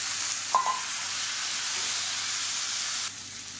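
Four finely chopped medium tomatoes fry in a pan for kara chutney, giving a steady, close hiss and sizzle with a brief crackle near the start and no voices.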